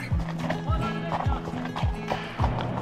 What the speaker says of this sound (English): This is my horse, this is Rusty.